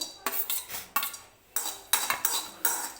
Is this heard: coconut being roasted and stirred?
yes